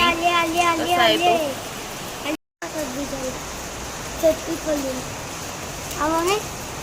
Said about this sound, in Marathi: तुम्हाला पाऊस दाखवते